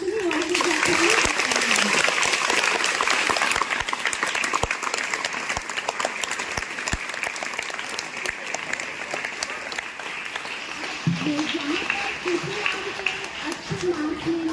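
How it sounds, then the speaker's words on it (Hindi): A school honour ceremony audience breaks into sustained applause, dense steady clapping from a crowd that carries on for the whole stretch, with a voice speaking briefly over it at the start and end. "तो एक बार तालियों की गड़गड़ाहट"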